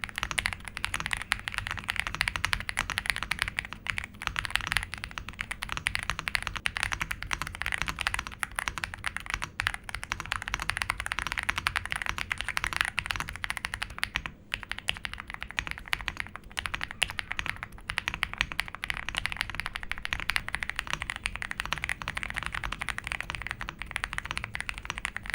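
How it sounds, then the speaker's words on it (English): Fast continuous typing on an RK R65 65% budget mechanical keyboard after a mod, dense rapid key clacks in an even unbroken stream, close and moderately loud, with no talking. "let's hear the keyboard sound after the mod."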